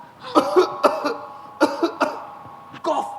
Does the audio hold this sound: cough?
yes